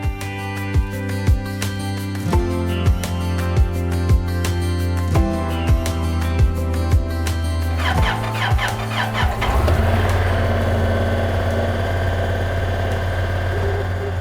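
Car engine cranking and starting after an idle air control valve replacement, then settling into a steady, loud close-up idle with a smooth, continuous rumble.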